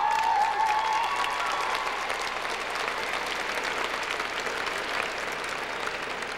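Audience applause at the Galena High School 2004 graduation ceremony: dense, steady clapping from a large crowd, loud from the start and holding at an even level for several seconds.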